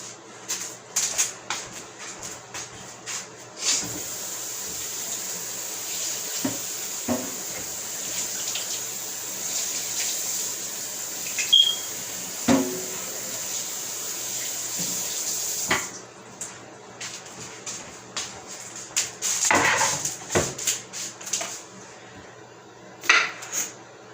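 Strawberries are rinsed under a running kitchen tap in a steady, close stream for about sixteen seconds, with scattered clinks and handling. The flow then stops and sparse splashes and clatter follow.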